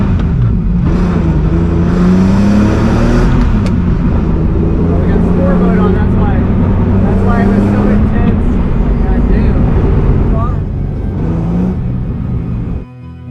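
A BMW E46 M3 pulling away, its engine droning close and loud with revs rising and falling, while a voice talks over it throughout.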